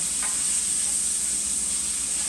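Thawed golden chanterelle mushrooms cook in butter in a pan, giving off a steady, close, bright sizzle and hiss of escaping steam that continues evenly without pause.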